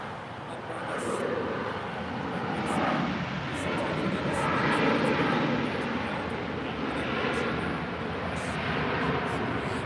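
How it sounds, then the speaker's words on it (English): An American Airlines Boeing 737-800 arriving at LAX from Puerto Vallarta, its broad jet roar holding steady and fairly loud throughout, swelling slightly near the middle, with faint voices in the background. "This is American Airlines 1660 coming in from Puerto Vallarta on a 737-800."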